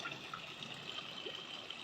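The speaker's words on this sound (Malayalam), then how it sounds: "നമ്മുടെ കുളത്തിലൊക്കെ ഇങ്ങനെ വെള്ളം വീണുകൊണ്ടേ ഇരിക്കുന്നു കേട്ടോ." Water falling steadily into a village pond, a continuous trickling splash that stays even and fairly close, with no talk over it.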